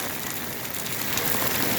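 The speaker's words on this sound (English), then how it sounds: "Right now it's raining out like crazy and cloudy" Heavy rain pours down in a steady, dense hiss of drops striking surfaces, close and continuous, with no voices.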